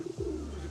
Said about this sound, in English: Look at the pigeon and the dove, darling.